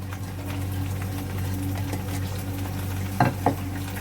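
Onions go into hot oil in a pan for masala bhindi keema, making a steady, close frying hiss over a low hum, with two brief louder stirring clacks near the end.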